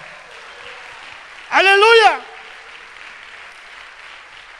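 A church congregation applauds in a steady wash of clapping, briefly topped by a loud shouted exclamation from a voice.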